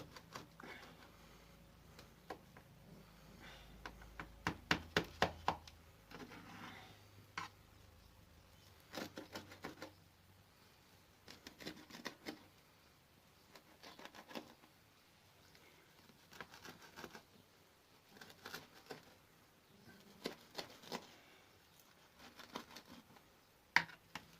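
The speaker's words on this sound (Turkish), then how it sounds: "Yağmur yağıyor." Faint, quiet patter of rain in a village, scattered soft drips and taps against a surface, irregular and distant with a low hum beneath.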